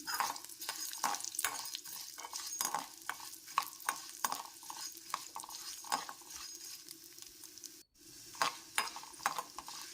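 Urad dal, cumin, coriander seeds, chana dal and fenugreek frying in oil for a temple-style Mangalore cucumber sambar, with a steady sizzle and repeated scraping, stirring clicks, a brief drop near the end.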